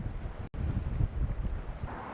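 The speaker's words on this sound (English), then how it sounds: "it's really cold and windy" Cold wind buffets the microphone at the end of a pier on Vancouver Island, a steady low rumbling roar with a brief dropout, and no one speaks.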